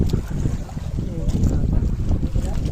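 Strong wind buffets a small fishing boat at sea off Palawan in rough weather, roaring in gusty, uneven blasts against the microphone with splashing water underneath.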